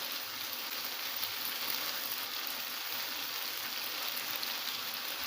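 A capsicum and yogurt masala fries in a pan, producing a continuous, even hiss and sizzle at close range, steady and unbroken, with no talking.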